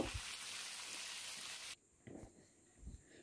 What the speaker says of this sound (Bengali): সুন্দর করে মাছগুলো আমরা ভেজে নেব